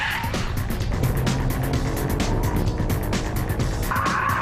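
Ferrari 575M Maranello drifting through a curve with its rear wheels spinning, a loud engine roar mixed with rough tire scrubbing and squeal, continuous and close throughout.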